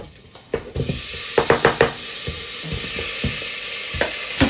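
Pork sizzles in a frying pan for afritada, a steady bright hiss broken by sharp clacks and scrapes of stirring, loud and close, with no voices.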